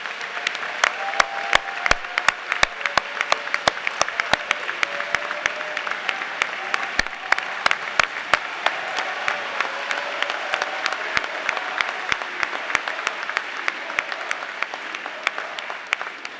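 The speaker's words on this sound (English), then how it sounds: "Please give them another round of applause." An audience at the Missouri Boys State primary election results applauds the statewide office candidates, with sustained, steady clapping from a large crowd and faint voices mixed underneath.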